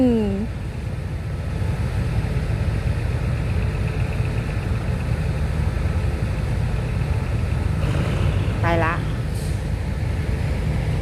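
A GE-K diesel locomotive idles and rumbles steadily nearby on the line, a continuous low engine drone with a brief rising whine at the start and a horn-like tonal sweep near the end.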